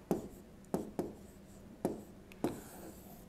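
Writing on a board: five quick, scratchy strokes land at uneven intervals, each a short faint scrape against a quiet room, with no talking.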